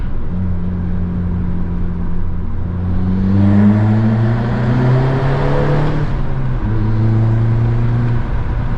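A modified VW Golf Mk6 with a 1.4 TSI engine revs up on a downshift, its engine note sweeping upward and then settling, heard up close from inside the car with no talking.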